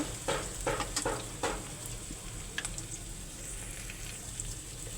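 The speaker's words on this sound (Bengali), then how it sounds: "প্রথমে তেল দিয়ে দিয়েছি, পেঁয়াজ দিয়ে দিয়েছি" Onions frying in hot oil at the start of a hilsa fish curry with ridge gourd and potato, a steady soft sizzle with a few sharp stirring clicks and taps early on.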